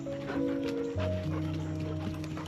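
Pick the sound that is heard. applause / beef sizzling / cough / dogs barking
dogs barking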